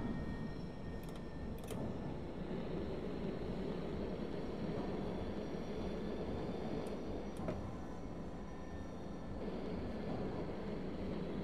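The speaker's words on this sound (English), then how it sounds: "This is a new express train." An R68 express subway train runs on the Q line toward Brighton Beach in the OpenBVE simulator, with a steady, loud rolling rumble and rail noise throughout and a few faint squeals and clicks.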